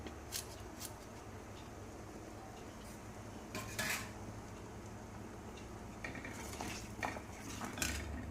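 Metal utensils clink and scrape in a pot as crushed garlic and salt go into boiling dill (sathakuppai) rasam, with a few sharper clatters scattered over a low steady kitchen background and no talking.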